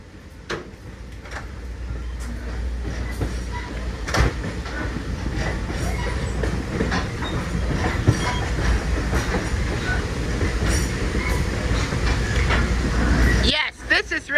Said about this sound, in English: coming to you live from on board the Missionary Ridge Local train ride